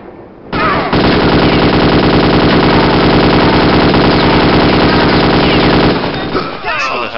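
Sustained automatic gunfire from the shooter game Kingpin: Life of Crime, a loud, rapid unbroken burst lasting about five seconds before cutting off, with a brief voice near the end.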